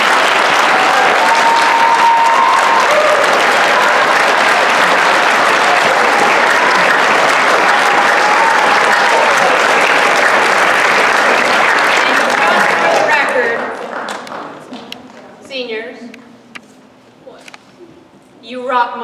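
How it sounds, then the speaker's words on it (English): An audience gives a class a long, loud round of applause that fills the room for about thirteen seconds, then thins to a few scattered claps and a voice before a brief final burst. "could we have one more round of applause for today for the class?"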